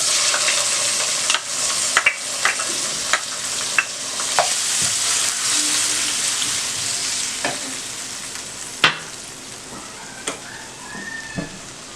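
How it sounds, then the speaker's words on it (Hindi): Onions sizzle steadily in hot oil for a spinach and egg curry, a loud continuous crackle broken by several sharp clicks and scrapes of a utensil stirring against the pan, no voices. "अब हमने इस ऑयल में प्याज डालनी है।"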